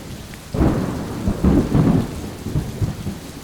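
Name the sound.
thunderstorm with pouring rain and wind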